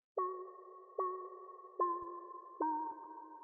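Four repeated FM synth notes built from sine waves, with a bright, bell-like electronic tone, each starting sharply and sustaining briefly before the next, evenly spaced.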